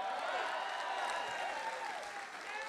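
A rally crowd at a political event in Wisconsin applauds and cheers in a steady wash of clapping and voices, sustained and somewhat distant, with a faint hum of crowd noise throughout.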